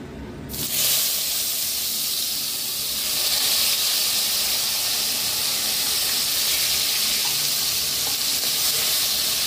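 Onion paste added to hot oil with bay leaves and whole garam masala for chicken biryani bursts into a loud, continuous hissing sizzle that holds steady close up after a brief quiet start.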